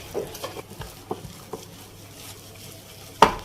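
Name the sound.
mixing atta biscuit dough ingredients by hand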